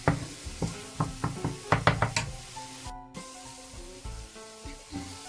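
White beans sizzle in ghee with curry powder while a spoon stirs and knocks against the pot in a quick run of sharp taps, then the frying settles into a steady, softer crackle.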